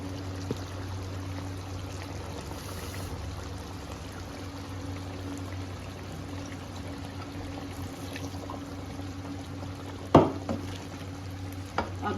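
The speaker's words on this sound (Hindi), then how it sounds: "अब इन सबको मिक्स करके मैं इसको पकने के लिए रख दूँगी" Thick ground poppy seed paste stirred into pasanday curry with a little water, a steady soft scraping and swishing in the pot, with a sharper clank of the spoon near the end.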